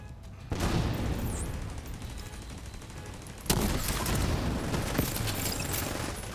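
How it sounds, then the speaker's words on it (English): Chem launcher shots fire in a video game, a loud burst of rapid weapon reports that begins abruptly and returns after a short lull as a dense, sustained barrage. "I miss several chem launcher shots"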